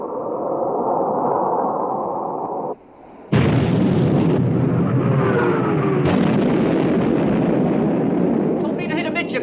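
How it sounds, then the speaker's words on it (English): Heavy warship main armament firing in a film battle scene, delivering massive deep booming blasts that roll into sustained thunderous rumble, loud and close, with a brief lull before a second salvo. "Open fire, main armament."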